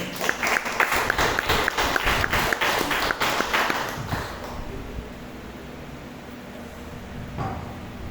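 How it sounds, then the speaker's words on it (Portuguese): A church congregation at an Easter service claps together, a dense burst of applause with rapid rhythmic hand claps that fades out after about four seconds, leaving quiet room noise. "Vamos receber com palmas."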